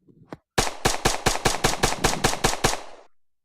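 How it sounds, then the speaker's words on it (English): Gunshots ring out in a zombie shooter game, about ten sharp, evenly spaced shots in a rapid string after a faint click, loud and close, fading at the end. "Let's say your players firing off shots."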